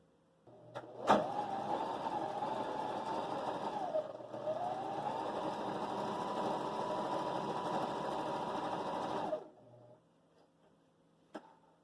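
A Husqvarna Viking Emerald 118 sewing machine runs steadily for about eight seconds while overcasting a fabric edge, its needle whirring in a continuous buzz with a brief dip midway, then stops with a couple of faint clicks.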